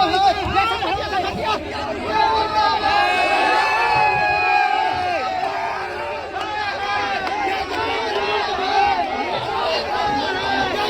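Thousands of tribal protesters fill a street, a dense crowd roaring with overlapping shouts, chants and chatter, loud and continuous throughout.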